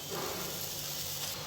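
Moong dal paste sizzles as it goes into a hot pan for halwa, a steady close hiss running unbroken throughout with no talk.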